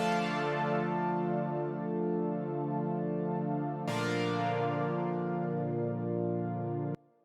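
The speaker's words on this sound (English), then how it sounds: "So I choose the Blade of Canada pad right here." Sustained chords from the Blade of Canada synth pad in Analog Lab ring out clearly, with one chord change partway through before the sound cuts off abruptly. The pad plays alone with no talking.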